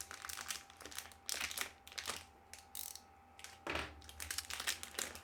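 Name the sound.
cellophane wrap being cut open and crinkled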